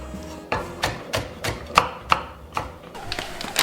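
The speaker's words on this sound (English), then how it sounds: "Slice them and slice green onion." A knife slices through green onions on a cutting board while preparing spicy pork bone stew, a series of crisp, fairly even taps at a moderate pace, close and clear with nothing else heard.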